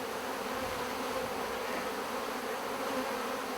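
Honeybees swarm and buzz over an opened hive with brood frames in Shaldon, Devon, a dense, steady, close hum with no pauses and no voices.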